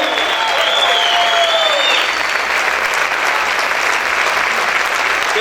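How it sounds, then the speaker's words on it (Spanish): A church congregation bursts into loud, sustained applause during a worship service, with a continuous wash of clapping and crowd noise throughout. "dale ese fuerte aplauso al Rey"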